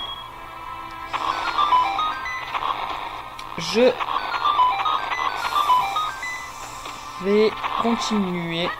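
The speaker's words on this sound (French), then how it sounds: "désolé pour le bruit de portable" A short electronic mobile phone message chime and a few tonal beeps sound amid background music from The Legend of Zelda: The Minish Cap, with a voice speaking briefly.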